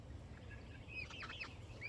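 Chickens cluck softly in a few short calls over a low background rumble, faint and fairly close, with no talking.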